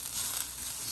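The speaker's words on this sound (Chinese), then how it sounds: "给它翻炒一下，炒软就可以" Celery strips and shredded carrot stir-fry in a pan, giving a brief, even sizzle with a faint crackle.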